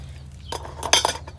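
Chicken and duck eggs clink and knock against a bowl as they are set down, a few quick hard taps close by over a low steady hum.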